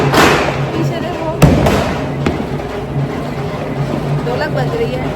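Firecrackers pop and thump during Diwali celebrations outdoors, a few sharp bangs scattered over a loud, busy background of crowd noise and people talking nearby.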